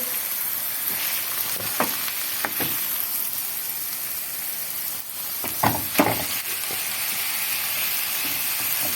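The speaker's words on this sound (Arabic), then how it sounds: "وادي البصل زي ما انتم شايفين اهو بقلبه مع اللحمه اهي" Onions and meat fry together in a pan with a constant strong sizzle, broken by a few clattering stirs and scrapes of a utensil near the middle and end.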